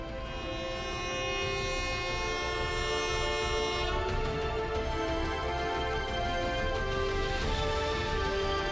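A Chengdu–Chongqing high-speed train passes, a steady loud rushing rumble overlaid with a sustained tonal whine that holds throughout.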